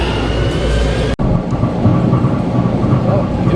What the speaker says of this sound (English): Look at that empty train. That's what we have the luxury of here on the Babylon line.